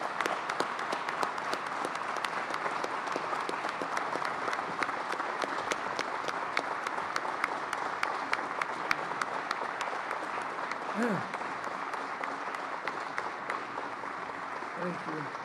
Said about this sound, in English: Ladies and gentlemen, please join me in a round of applause for Coach Jim Boeheim.